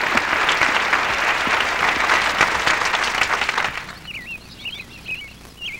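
Concert hall audience applause, a thick sustained clapping roar that fades out after about four seconds, leaving quiet room tone with faint bird chirps.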